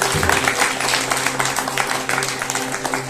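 Villagers clap together at a Shiv Jayanti gathering in Kalyana village, a dense, steady patter of many hands that carries on through the whole moment, with steady tonal hum underneath.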